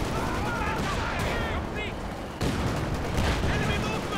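Tank cannon and infantry small-arms fire in the World War II strategy video game Company of Heroes 2, a dense steady battle din of scattered shots and a sharp blast midway, heard under a commentator's voice.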